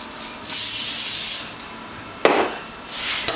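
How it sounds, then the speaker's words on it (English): Cooking spray hisses from an aerosol can onto a pizza pan in a steady one-second burst, followed by a quick short puff and then another brief spray, close up. "my pizza pan, spray lightly, not too much."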